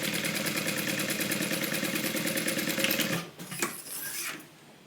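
A sewing machine stitches a Bible cover, running as a steady, fast mechanical hum with rapid needle chatter for about three seconds, then stopping, followed by a few brief clicks and a fainter, lower hum that fades out.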